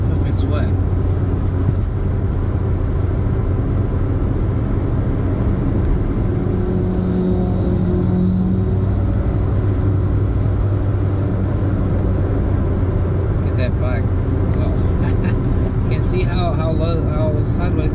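A car drives through a series of corners, its engine and tyre noise forming a loud steady rumble and whir that swells and eases slightly with speed, with a person talking over it.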